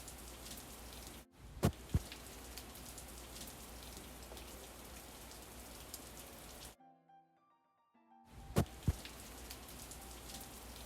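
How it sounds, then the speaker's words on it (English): Steady rain patters on a hard surface, a dense close hiss that cuts out into near silence for about a second and a half before resuming, with a few louder drops or knocks standing out. "Oh no, it's raining."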